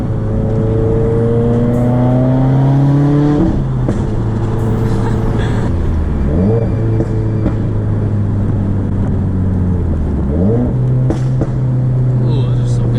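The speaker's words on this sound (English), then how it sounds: "Ooh, those are some good pops." Stage 2 tuned 2020 Subaru WRX exhaust, loud and close, revving and dropping with sharp pops and crackles as the revs fall, over a steady engine drone.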